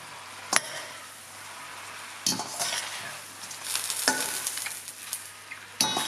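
Ingredients for fresh lemon tagliolini with pecorino cream are mixed in a pan, with a soft sizzle broken by a few sharp clanks and scrapes of a utensil, up close and with no talk.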